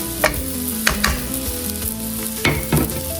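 Onions frying in a pan that has just been used for aubergines, a steady loud sizzle with a few sharp stirring scrapes breaking through.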